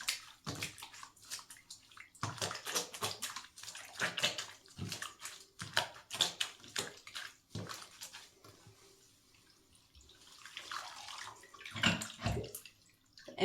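A synthetic wig is gently agitated in a sink full of water, making soft sloshes and splashes in irregular bursts, close up, with quieter stretches between movements.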